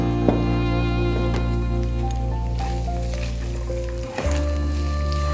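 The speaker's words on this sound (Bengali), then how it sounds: "এবার আমরা পেঁয়াজ কুচিটা দিয়ে দিচ্ছি" Chopped onions, about a cup, hitting hot oil in a pan and frying with a loud, continuous close sizzle that briefly shifts as they are stirred, with no voices.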